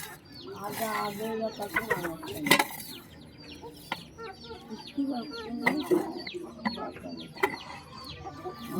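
Chickens cluck in short, scattered calls, with a rooster among them, heard at moderate distance outdoors while a person talks over them.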